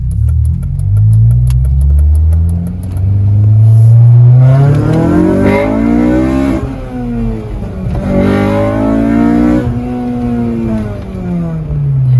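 A car engine starts after a jump start, idles roughly, then revs up loudly in two rising and falling surges. It is close and strong throughout, with no talk.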